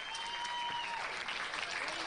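Poker player Justin Young and those around the table clap at a World Poker Tour game, a faint, steady patter of applause with a tone ringing briefly in the background.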